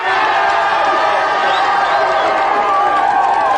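Studio audience on a video-games quiz show cheering and whooping loudly, a sustained roar of many voices with clapping mixed in.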